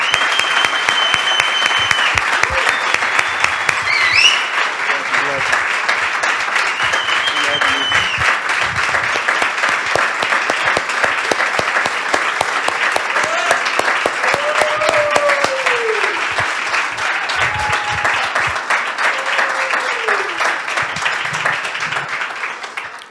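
Long, sustained applause from a church congregation celebrating a pastoral couple, thick even clapping throughout with a few cheers and voices rising through it.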